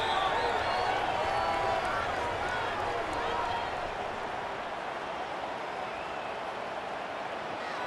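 A stadium crowd in a college football video game, CFB 26 on PS5, keeps up a steady roar that eases slightly after the first few seconds and stays continuous.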